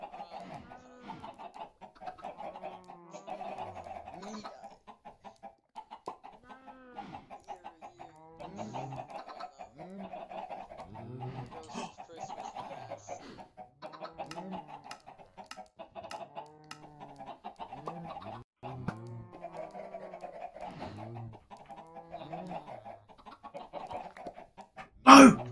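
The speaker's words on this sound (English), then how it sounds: "Chicken coop." Chickens in a coop inside a video game cluck steadily for the whole stretch, with overlapping calls in a repeating pattern and a sharp burst at the very end.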